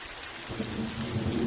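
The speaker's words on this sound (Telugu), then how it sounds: "వర్షం అయితే స్టార్ట్ అయింది" Steady rain pours down in a dense wash, with a low rumble of thunder underneath.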